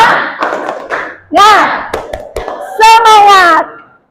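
A group does a rhythmic 'tepuk semangat' spirit clap during a classroom ice-breaking activity, with short patterned claps mixed with loud chanted voices.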